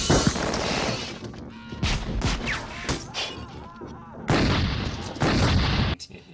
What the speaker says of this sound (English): in the police precinct shootout, you totally bought that there at any given time, Kyle Reese and Sarah Connor were in all the danger in the world